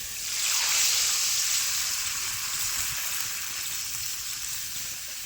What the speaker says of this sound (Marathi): जिरं व्यवस्थित तडतडलं की लगेच हळद घालायची